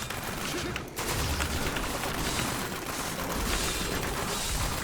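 Diablo 3 Demon Hunter combat, with dense rapid crackling gunfire and explosive bursts forming a steady loud barrage, a brief gap near the start, then continuous overlapping shots and blasts.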